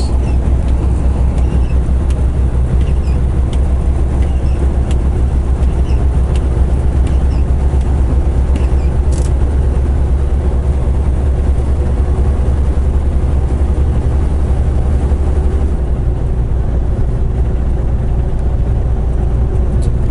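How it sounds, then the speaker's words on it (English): Vehicle cruising at 64 mph, heard as a loud, unbroken low engine and road drone from inside, with a rumbling buzz holding steady throughout and no voices. "Driving this 64 mile an hour is a lot harder than I thought."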